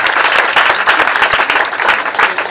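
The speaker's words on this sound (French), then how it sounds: "Il faut applaudir encore plus." A political rally crowd for a party mobilisation claps loudly and continuously, a dense, close wash of hand claps with no pause.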